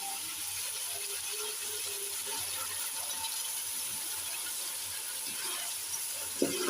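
Water is poured into a pan of cauliflower and meat curry, a steady splashing trickle with faint clinks of the pan, heard close and without talking.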